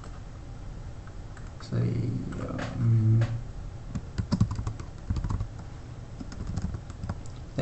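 A folder and image name are typed on a computer keyboard, with rapid close key clicks arriving in uneven clusters after someone speaks briefly over a faint background hum.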